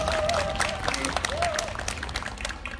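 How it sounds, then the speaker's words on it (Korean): Residents at a neighborhood development committee meeting clap to welcome a speaker, a lively burst of close claps with some murmured voices and a brief tonal sound mixed in. "환영하는 의미로 박수로 맞이해 주시면 감사하겠습니다."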